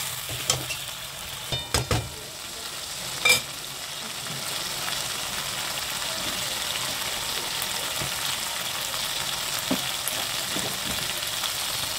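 Potatoes and a little water go into a frying snakehead fish curry, a few clattering knocks up front, then a continuous even sizzle and hiss that carries on steadily to the end.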